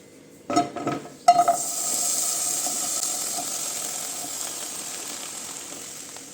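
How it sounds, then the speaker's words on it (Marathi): Chopped tomatoes hit a hot pan on a gas stove with a few clattering knocks, then settle into a steady hiss of sizzling and steam that slowly fades. "त्यासाठी मी इथे गॅसवरती एक पॅन गरम करून घेत आहे त्यामध्ये आपण जे चॉप करून मग मी तुम्हाला दाखवलं चॉप केलेलं टमॅटो ते टाकून घेणार आहोत"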